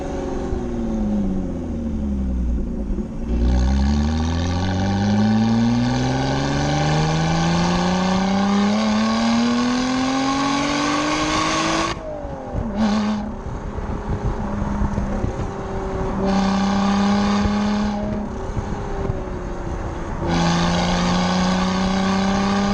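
A Lotus Evora engine with a stainless steel exhaust revs hard and climbs through the gears, exhaust roaring loudly with brief dips between shifts, no voices.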